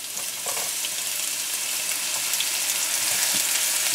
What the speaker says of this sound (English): So our oil is hot now, and we're gonna add our onions